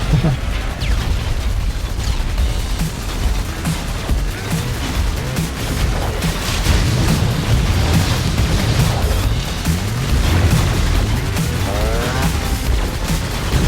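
Bombs exploding in the fast arcade shooter Assault Android Cactus, with a steady barrage of booms, pops and gunfire-like bursts layered over game effects and music, loud and continuous throughout.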